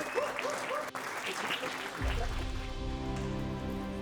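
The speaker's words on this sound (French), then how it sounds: "Je vous demande un tonnerre d'applaudissements pour Monsieur Tahar Abdi." Applause from a fight-event crowd greeting a combatant, a burst of clapping mixed with an announcer's voice over the hall's sound system, followed by a low rumbling hum.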